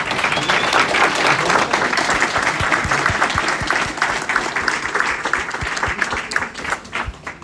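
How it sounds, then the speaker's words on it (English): A packed room at a mayoral candidate forum gives the candidates a sustained round of applause: loud, dense clapping from many hands that continues for several seconds before tapering off. "Let's give them all a round of applause."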